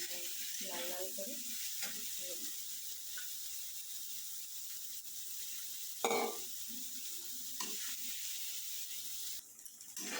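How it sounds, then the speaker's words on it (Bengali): Soybean chunks fry in a pan, giving a steady low sizzle with the scrape of stirring and a few clinks, heard alone without voices. "সয়াবিনগুলো খুব ভালো করে ভেজে নিতে হবে, লাল লাল করে।"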